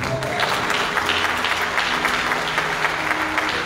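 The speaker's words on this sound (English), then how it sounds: "Let's give the Lord a round of applause." Church congregation applauding during a Sunday worship service with a mass choir, a steady dense wash of clapping held at even loudness for the whole stretch.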